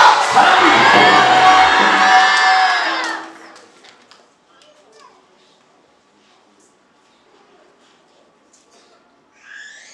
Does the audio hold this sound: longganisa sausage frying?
no